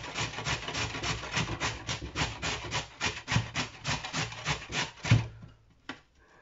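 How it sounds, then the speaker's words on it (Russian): Carrot grated on a coarse grater in a home kitchen while making chicken soup: steady, fast rhythmic rasping strokes, close and fairly loud, running continuously before trailing off into near silence at the end. "А теперь я натру вот эту морковку. Натирать я ее буду на крупной терке."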